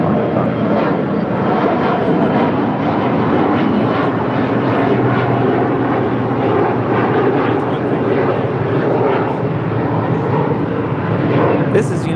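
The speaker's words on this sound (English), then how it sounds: "This is United Express" United Express Embraer E175 jet airliner departing, a loud sustained engine roar with rumbling texture across the whole stretch, with people talking over it at times.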